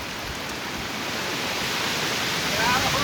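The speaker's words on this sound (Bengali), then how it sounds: "বৃষ্টি হচ্ছে। রাস্তায় দেখো, দেখলে বোঝা যাবে।" Steady, dense rain hiss fills the clip, loud and close, with a constant wash of falling water and no distinct voices.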